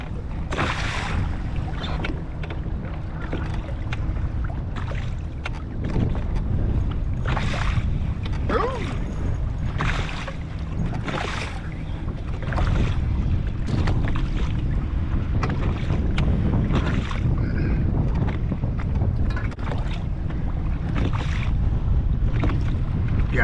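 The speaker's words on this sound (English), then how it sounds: "Chilly wind blow." Chilly autumn wind buffeting a small fishing boat on Lake Oconee, a steady roar with gusty microphone rumble and repeated sharp knocks and clatters across the whole stretch.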